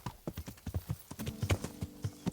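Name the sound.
horse hooves clip-clop in video game Kingdom Come: Deliverance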